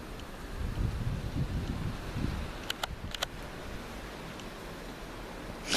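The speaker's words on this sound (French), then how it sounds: "Vent très modéré à même fort, hein" Moderate to strong wind blows through trees in Charente, a broad rushing gust loud at first, then easing into a quieter lull with a few faint ticks and rustles.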